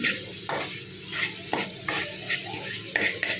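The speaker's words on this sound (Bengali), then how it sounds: "এবার একটু ভালো করে নাড়িয়ে নিই" Cumin powder being stirred with a utensil in a cooking pan of ash gourd, giving a series of scraping strokes with light sizzling underneath, close and moderately loud with no voices.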